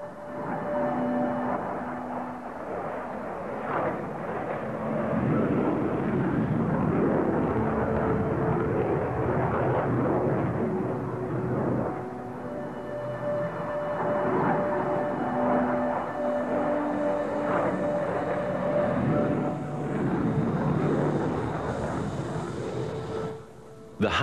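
Jet engines of a Northrop XB-49 flying wing bomber, a long, steady roaring drone that swells and fades slightly, heard alone without talk over it.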